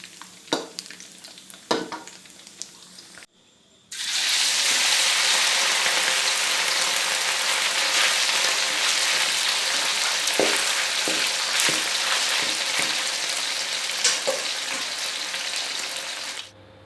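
Pork belly frying in hot oil until crisp: after a few sharp clicks and taps, a loud, continuous crackling sizzle sets in and holds steady for over twelve seconds, with occasional pops and no speech.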